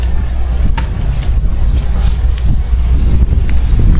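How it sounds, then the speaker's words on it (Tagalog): Strong wind buffets the microphone with a steady roar, low rumbling of waves or water underneath, no talking. "mahangin. Malakas ang alon ngayon. Kasi yung hangin pa lang."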